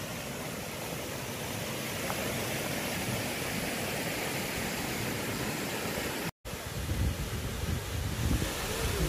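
Suok Waterfall in Goesan, South Korea, a steady dense rush of falling water, loud and continuous with no talk, briefly cut once.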